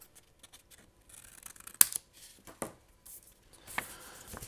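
Scissors trim paper tabs on a pop-up card, making several close, crisp snips and brief rustles separated by short quiet gaps.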